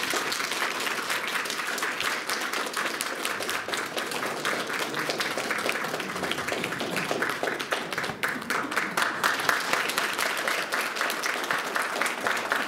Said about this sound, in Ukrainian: я думаю, що буде абсолютно справедливо, якщо весь зал привітає його оплесками